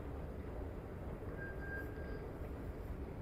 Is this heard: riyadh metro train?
yes